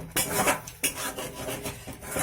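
Spoon scraping and rubbing through thick paneer gravy in a pan while fried gram flour is mixed in, a steady close rasping with short pauses and no voices.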